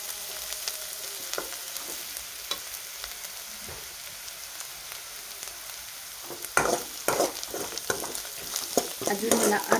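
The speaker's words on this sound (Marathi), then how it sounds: "बघू शकता आता कांदा छान परतला आहे।" Chopped onion sautéing and sizzling in a hot pan for upma, with curry leaves, a steady fry hiss running throughout and louder scraping stirs of a spoon in the last few seconds.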